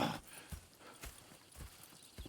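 Hooves clip-clop at a steady walking pace in Red Dead Redemption, several distinct hoof strikes close by with faint background ambience.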